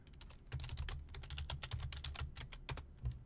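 Rapid, uneven keystrokes on a computer keyboard while entering a database command, close and fairly quiet, with a steady low hum underneath.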